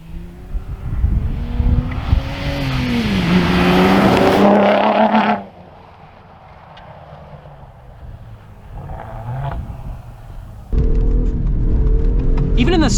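A 2021 Ford F-150 Raptor is driven fast off-road in snow. Its loud, close engine roars and climbs in pitch, drops away to a low rumble, then surges back hard near the end.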